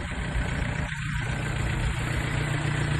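A 2006 Kubota GM 49 tractor's engine idles steadily nearby, a continuous low rumble with an even, unbroken tone throughout.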